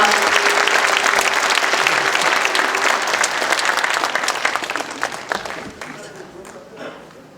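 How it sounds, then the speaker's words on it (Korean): Loud, warm applause fills an arts hall as a guest lecturer is welcomed to the stage, dense and sustained, then tapering off into a few scattered claps with voices under it. "뜨거운 박수로 환영해 주시기 바랍니다"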